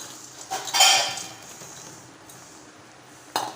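A spoon stirs fried pakoda into a pot of boiling gravy, giving a brief clink and scrape against the pot, then a soft bubbling simmer and a final metallic tap, with no talking.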